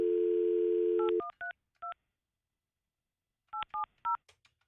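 A telephone call being placed: a steady dial tone cuts off into a quick run of DTMF keypad beeps, a pause, then three more touch-tone beeps, clear and close with no talking.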